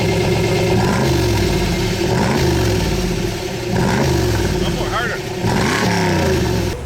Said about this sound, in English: we got a 41 Dodge Command car just went past us